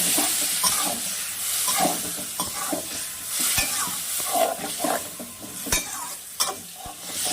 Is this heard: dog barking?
no